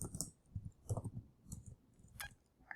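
Faint, sparse clicks of typing on a computer keyboard, a few irregular keystrokes spaced apart in a quiet room.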